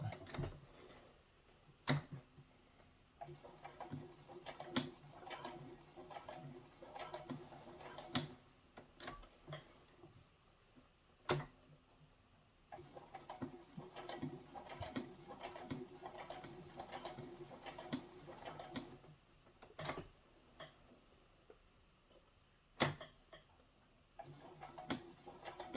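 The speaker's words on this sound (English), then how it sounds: "stitch all the way around where your elastic meets" Sewing machine stitching elastic straps onto foam armor, with bursts of fast mechanical ticking that start and stop repeatedly, moderately close and steady, with no talk.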